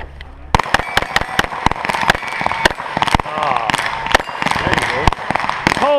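Rapid gunshots on a steel shooting match stage, a fast run of sharp, loud cracks with a few pauses between strings, with people talking under and between the shots.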